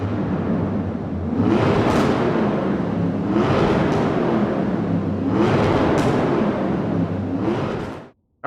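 A supercar drifting in Forza Horizon 4 revs hard in repeated rising sweeps, the engine climbing and dropping in three or four surges over a continuous roar before cutting off abruptly.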